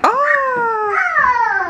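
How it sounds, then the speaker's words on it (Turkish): A cat gives a single drawn-out meow, rising then falling in pitch, with a second rising cry near the end, loud and close indoors in a home. "Kedi de geldi ya."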